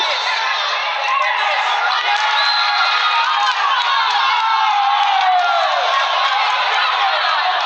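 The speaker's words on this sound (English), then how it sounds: "The crowd didn't like the call, at least one section of the crowd." Crowd at a women's basketball playoff final in Jamaica reacts to a referee's call, a steady wash of shouts and jeers with some whoops, over thin band-limited broadcast sound and a commentator talking.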